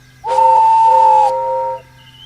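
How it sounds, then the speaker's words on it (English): A steam engine whistle sounds once, a loud sustained tonal blast lasting about a second and a half before it fades out, with quiet background hum around it. "Presently, he heard a whistle."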